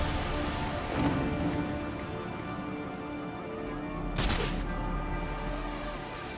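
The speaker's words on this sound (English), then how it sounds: "I hear rain. It's starting to rain." Steady rain falls throughout as a broadband hiss, with two brief louder swells that may be rumbles or crashes.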